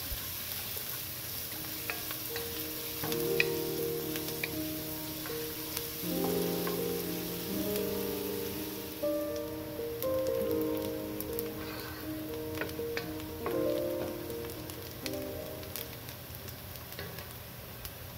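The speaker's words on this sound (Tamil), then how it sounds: "இப்போ நம்ம சாப் பண்ணி வச்சுருக்கிற வெங்காயத்தை சேர்த்து ஒரு 5-6 நிமிஷம் வதக்கலாம்." Chopped onions sauté in a pan for a chayote kurma, giving a steady, rain-like sizzle that runs throughout, with faint tonal clinks and an occasional scrape over a long stretch.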